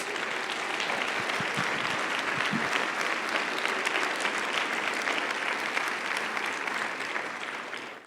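Sustained applause from a large church congregation at a Sunday service, steady and dense throughout, with a few sharper claps early on before it tapers slightly at the end.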